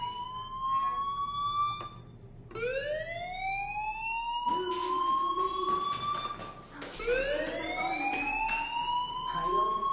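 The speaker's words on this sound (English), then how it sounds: "Hey, do you hear that fire alarm?" A fire alarm rings in Life is Strange, a loud, steady series of rising electronic wails repeating in a continuous cycle and dominating the scene.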